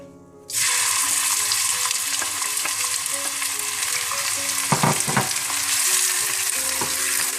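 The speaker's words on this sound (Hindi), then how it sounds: "सबसे पहले आप तेल गरम कर लें। इसमें आप प्याज डाल दें।" Onions dropped into hot oil in a pan for chicken curry, a sudden loud sizzle that starts abruptly and holds as a steady close crackling hiss, with brief stirring clatter midway.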